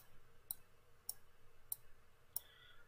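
Five sharp, faint clicks spaced about half a second apart, from a computer mouse being operated while working in 3ds Max with V-Ray, over a quiet low background hum.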